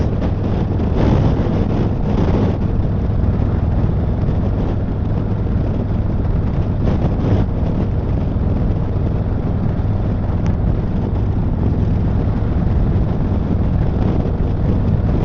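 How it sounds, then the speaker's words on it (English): Strong wind roaring across the microphone while riding a motorcycle on a straight road, loud and constant for the whole stretch, with the engine buried underneath and no talking. "Now we're really feeling that wind."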